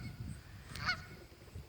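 A single short goose honk rings out near a pond, moderately close, over low background rumble, with no voices.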